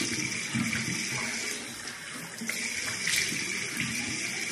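Tap water runs steadily into a sink while someone rinses their face, a continuous close splashing flow with a brief spoken word over it.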